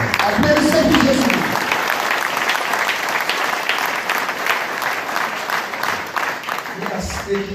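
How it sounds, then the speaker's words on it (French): A church audience breaks into loud, sustained applause that stays dense for several seconds before thinning slightly, with a voice coming through near the end. "Clap for Jesus Christ."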